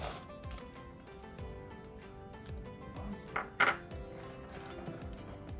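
Nuts and raisins go into a basbousa mixture in a pan, with soft clinks and light metallic taps of utensil against cookware, plus a couple of sharper clatters midway, all fairly quiet.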